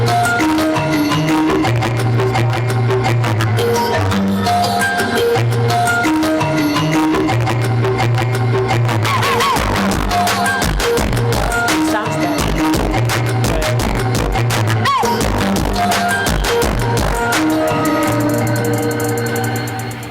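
Electronic music made by sonifying the colours of a tie, with layered synthesized tones and beats playing loud and continuous from start to end, no voices heard.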